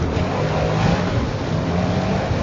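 A General Motors race car in a driving video game roars around a track, a steady, close engine drone with a low rumbling tone and no gaps, heard alone.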